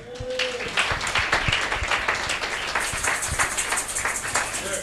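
A church congregation breaks into sustained applause and cheering during a French-language worship service, a dense, steady wash of clapping that holds for the whole stretch with no speech over it.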